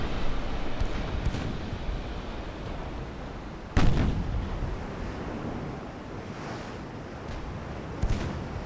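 Warship guns fire high-explosive shells in the naval game Ultimate Admiral: Dreadnoughts, with a few sharp, heavy booms breaking over a constant roar of wind and surf.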